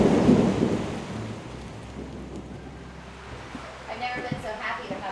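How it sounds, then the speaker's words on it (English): Thunder rumbles loudly at the start, followed by steady rain during an unpredictable storm over a house being closed in under a blue tarp. Faint voices are heard near the end. "The rain started last night just as we were getting the tarp on."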